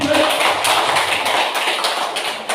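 A seated audience at an Indonesian school dissemination session claps their hands, a dense steady patter of many hands close by that carries on for a few seconds without pause.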